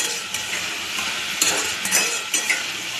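Fish curry sizzles steadily in a hot pan while a utensil stirs it, with a constant close frying hiss broken by occasional scraping and clinking.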